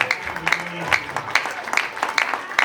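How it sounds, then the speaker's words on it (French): Wedding congregation at a religious ceremony applauding and cheering in praise, with rhythmic bursts of clapping and voices rising at regular intervals, fairly loud and close. "Acclame très fort pour la gloire de l'Éternel."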